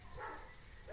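A dog at an animal shelter in Kyiv Oblast barks at a distance, muffled bow-wow sounds under steady room noise with no talk.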